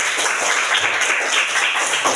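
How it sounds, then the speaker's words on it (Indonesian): A classroom group claps together in a short, dense burst of applause lasting about two seconds, fairly loud and close, with no talking over it. "tepuk tangan untuk kita semua"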